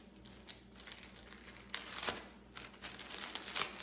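A plastic eBay-branded mailing bag handled while packing an order, giving soft continuous crinkling and rustling with a sharper crackle midway, close up and with no talking.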